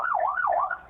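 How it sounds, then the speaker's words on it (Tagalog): Ambulance siren wailing in a smooth, rising-and-falling sweep, heard clearly and fairly close for under a second with no talk over it. "Ano ni ambulansya ini."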